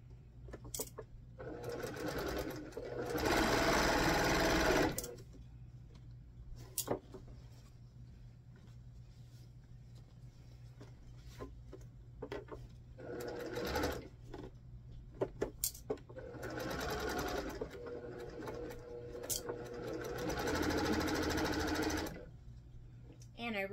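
A home sewing machine stitches in several fast, rattling bursts of a few seconds each, separated by quieter pauses with soft handling clicks, close and clear.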